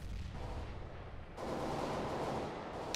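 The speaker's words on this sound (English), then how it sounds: "Throwing flashbang." A flashbang grenade going off in the shooter game CS:GO, a sudden loud burst of broadband noise that lingers as a sustained ringing wash, heard close with no talk over it.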